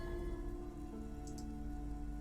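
Steady rain falls in the video game Disco Elysium, a dense, even hiss of drops on surfaces under a low, constant game soundtrack hum, with no voices.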